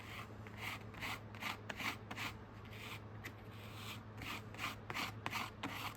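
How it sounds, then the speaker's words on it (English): A tool scrapes paste flat across a stencil on a mixed-media journal page: quiet, repeated rasping strokes in a steady back-and-forth rhythm, close but faint, over a low steady hum. "You want to try and scrape as flat as you can so it doesn't go under the stencil"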